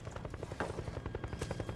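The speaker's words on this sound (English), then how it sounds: "It resembles the Israeli transport helicopters in size." Transport helicopter flying overhead, its rotor beating in a fast, steady rhythmic chop at moderate distance, continuous for the whole stretch.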